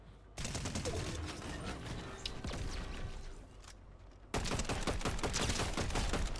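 A submachine gun firing in the Fortnite video game: dense, rapid bursts of gunfire with sharp reports, a brief lull in the middle, then a louder sustained volley near the end, with no talking.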